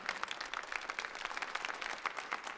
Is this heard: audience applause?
yes